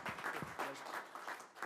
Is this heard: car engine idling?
no